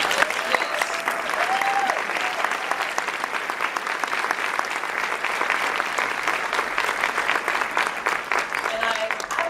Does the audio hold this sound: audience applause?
yes